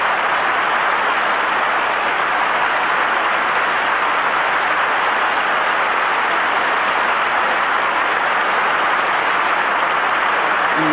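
A large Wimbledon crowd applauds steadily at a 1982 women's singles semi-final tennis match between Chris Evert and Billie Jean King, a dense, even roar of clapping that holds throughout without pause.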